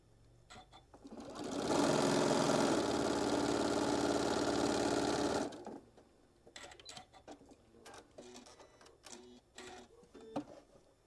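Sewing machine stitching a quarter-inch seam, a steady whirring run of about four seconds rising in and cutting off, followed by light clicks and fabric handling.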